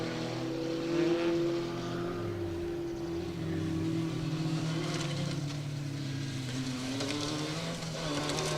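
A rally car on a forest stage of the Woodpecker Stages Rally runs with a rough, unhealthy-sounding engine, a sustained droning note that rises and falls as it passes at moderate distance.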